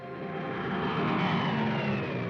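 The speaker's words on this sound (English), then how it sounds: "Weather planes such as this Mosquito" Piston engine drone of a de Havilland Mosquito weather plane in flight, a loud, steady wartime propeller roar holding for a couple of seconds with no voices.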